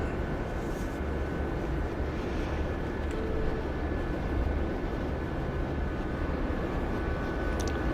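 A Gazelle helicopter in a video game droning steadily with a dense, continuous rotor and engine rumble, close and fairly loud, with no voices over it.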